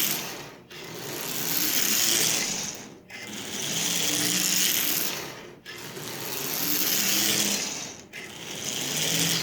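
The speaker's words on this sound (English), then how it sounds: "This motor is running." A Marx 999 toy train locomotive motor, decades in storage, runs on its own with a steady whirring, gear-like mechanical buzz that swells and cuts out briefly every few seconds.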